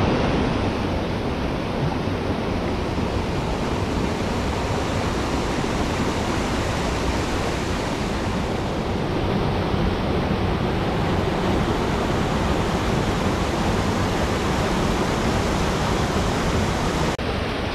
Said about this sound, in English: that's just there where the water is gushing down.